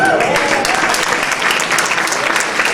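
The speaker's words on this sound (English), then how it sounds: "Give them a big round of applause." A dense, sustained wave of audience applause at an Eid event hosted by the New York City Comptroller, loud and steady throughout with a hint of voices mixed in.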